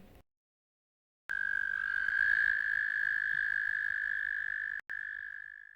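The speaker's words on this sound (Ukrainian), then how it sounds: "Жаба древолаз. Маленька яскрава стрибає по листю." A small, brightly coloured poison dart frog from the tropical rainforest gives a sustained, high, buzzing trill that holds steady for several seconds, breaks off for a split second, then resumes.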